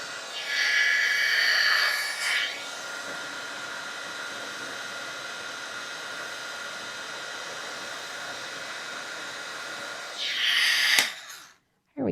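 An embossing heat tool blows a steady, loud hiss of hot air under a stamped card, running without a break for about eleven seconds, then cutting off abruptly.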